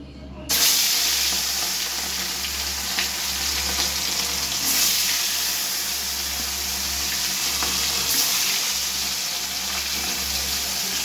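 Katapona fish pieces fry in a little oil, a loud continuous hiss and crackle that stays steady throughout, with faint low background hum.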